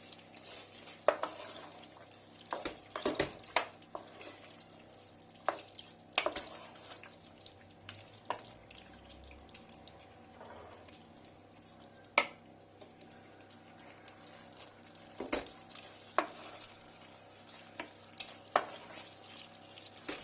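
A spoon stirs creamy curry chicken in a pot as kashar cheese melts, with soft scraping knocks and clinks repeating irregularly over a faint sizzle.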